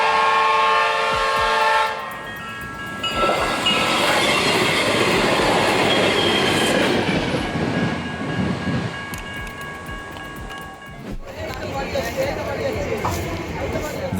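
Train passing a level crossing, its loud horn sounding at the start, then rumbling wheels and rattling wagons rushing close by with squealing, and a second horn blast near the end.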